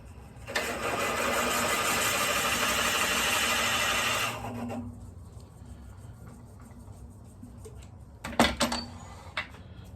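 A wood lathe spins a blank held in 2-inch jaws while a 1.5-inch Forstner bit drills into it, giving a steady motor whir for about four seconds that then winds down, followed by a few brief knocks.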